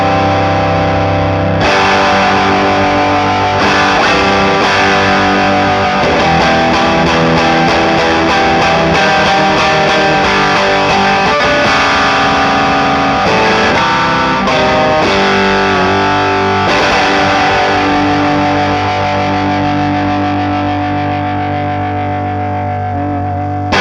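Heavily distorted electric guitar through a Pettyjohn Electronics Iron MkII Deluxe pedal cranked to its limits plays thick, saturated chords and riffs, loud and continuous with a few brief breaks.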